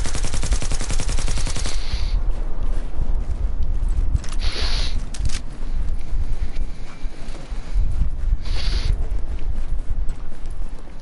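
Loud, continuous automatic gunfire from The Division, with a dense rapid burst at the start, then heavy sustained shooting noise with intermittent sharper bursts and no talking.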